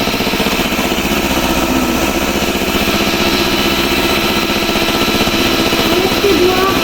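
An electric hand mixer whirs steadily while beating lemon cake batter in a home kitchen, a loud continuous motor drone with faint voices beneath.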